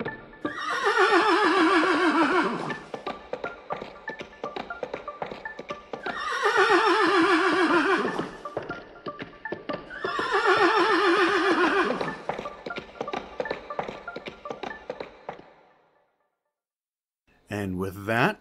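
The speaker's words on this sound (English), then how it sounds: "Eventually, you'll hear the whinny of a horse." A horse whinnies three times in long, loud, quivering calls with faint hoof clatter between them, followed by a short pause and the start of another whinny.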